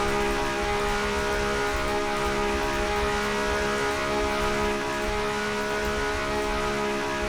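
A vehicle engine in the Roblox game Mad City, a fast compound car, drones steadily with a continuous hum and rushing noise for the whole stretch, with no talk over it.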